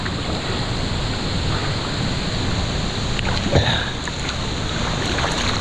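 Waterfall in Titou Gorge, Dominica: a loud, steady broadband rush of falling water fills the whole clip without pause, with no voices over it.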